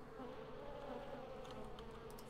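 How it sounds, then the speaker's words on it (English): Steady buzzing of a swarm of bees in The Sims 2 game, a continuous droning hum at moderate level with no talk over it. "Oh my god, we're getting chased by bees!"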